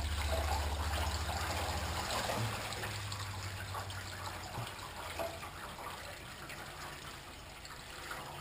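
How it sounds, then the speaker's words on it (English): Water trickles and drains from a sink after rinsing dry wheat in a kitchen, a steady soft hiss with a low gurgling hum throughout and no talking. "And we'll drain the water again."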